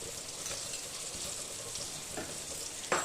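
Dried red chillies fry in butter with prawns, giving a steady, close hiss and crackle of sizzling fat, with a brief clatter near the end.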